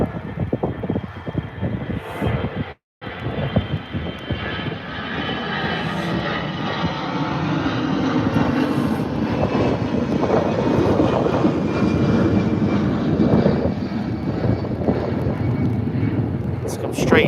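An Aer Lingus aircraft roars at Birmingham airport, its engine noise building and holding as a broad, steady rumble through most of the clip, with wind buffeting on the microphone and a voice speaking over it early on.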